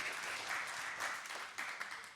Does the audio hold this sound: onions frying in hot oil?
no